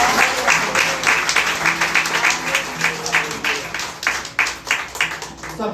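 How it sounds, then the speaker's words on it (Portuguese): A church congregation applauds together in steady rhythmic clapping, many hands close and sustained throughout, with some voices faintly mixed in. "Você pode dar uma salva de palmas ao Senhor?"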